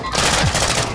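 Rapid gunfire in Call of Duty Warzone 2.0 DMZ rattles continuously through a short, loud burst, dense and close with no pauses.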